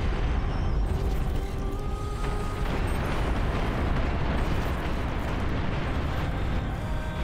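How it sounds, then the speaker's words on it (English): A nuclear missile launching in the strategy game Beyond All Reason: a loud, continuous roaring rumble with crackling bursts, sustained and dense for several seconds without a break. "Nuclear missile launch detected."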